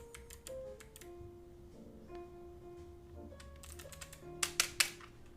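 Key clicks from a wireless computer keyboard tapping in short uneven bursts, fairly quiet over a steady low hum and faint tones, with three sharper, louder strikes near the end.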